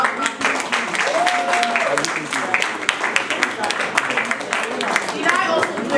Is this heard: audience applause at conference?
yes